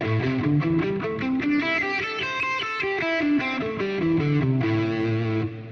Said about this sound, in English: here's a look at the pentatonic scale we're going to be working off today